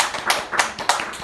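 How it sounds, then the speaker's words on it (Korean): Three bursts of hand clapping from a small group, each a short cluster of claps roughly a third of a second apart, close and fairly loud during a Bible study class. "박수."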